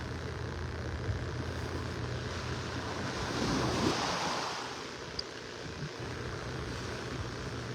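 Ocean surf on a beach in North Naples, Florida, a continuous wash of waves with a broad swell building and fading midway, steady wind rumble over the microphone, no one speaking.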